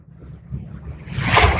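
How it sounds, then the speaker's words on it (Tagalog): A strong wave at the sea in La Union builds from a low rumble into a loud, hissing crash against the shore, close and powerful, with wind noise underneath. "Ang lakas ng alon, oh."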